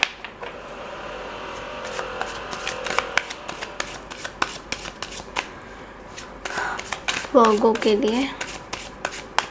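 Tarot cards are shuffled by hand close up, giving a stream of rapid papery riffles and rubbing. A voice briefly speaks near the end as the shuffling grows louder.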